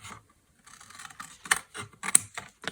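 Scissors snip and scratch through recycled cardboard packaging being cut open flat for junk journal ephemera, a run of short close crisp cuts and rustles with a few sharper snaps, no talking.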